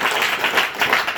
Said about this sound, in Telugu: కొట్టన్ క్లాప్స్